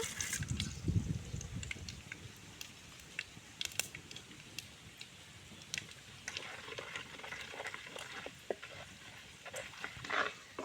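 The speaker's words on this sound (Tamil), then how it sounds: "இப்போ எண்ணெய் நல்லா காஞ்சதுக்கப்புறம் கடுகு போட்டுக்கலாம் கடுகு பொரியட்டும்" Mustard seeds splutter in hot oil in a home kitchen, with faint, scattered crackles and pops that grow more frequent toward the end.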